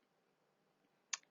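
A single crisp computer mouse click lands near the end, short and close, after near silence.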